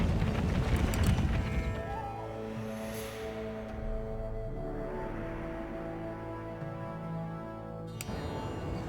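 Cavalry horses galloping across a battlefield in the strategy game Empire: Total War, a steady drumming of hooves under a sustained tonal music bed, fairly even in level throughout with no talking.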